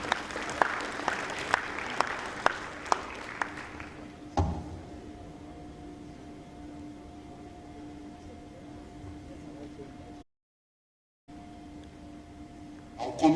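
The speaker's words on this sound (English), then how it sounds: "Big round of applause as we welcome Talking Drum Studio." Scattered claps greet Talking Drum Studio at an International Day of Peace event, sparse and fairly faint for a few seconds, then giving way to a quiet room with a steady electrical hum and a brief dropout.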